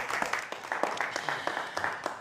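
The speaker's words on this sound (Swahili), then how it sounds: "Makofi kwenyu." A live-show audience claps in a quick, regular rhythm, with sharp separate hand claps repeating throughout, fairly faint and a little distant.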